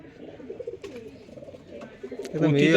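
Black-grained matraj pigeons, including a male, coo in soft rolling phrases close by, with a louder burst of cooing and rustling near the end.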